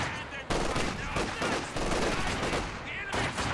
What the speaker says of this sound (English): We're just all huddled around this fire, shooting each other at point blank.